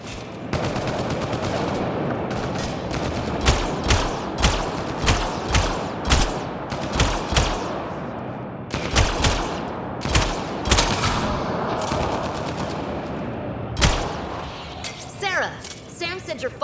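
Repeated bursts of gunfire crack through a sci-fi video game firefight in Mass Effect Andromeda, loud single and rapid shots in an uneven rhythm, with game music and effects beneath.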